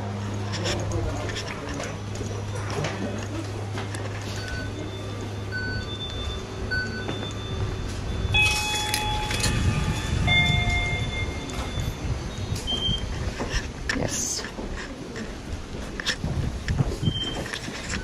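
Indoor station ambience at Kiowa Station in Japan: a steady low rumble with a humming tone, scattered clanks and beeping chimes, and people talking throughout.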